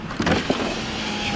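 A power window on a 2016 Toyota Sequoia Limited 4x2 opens with a short, close electric motor whir lasting just over a second, with a faint hum underneath.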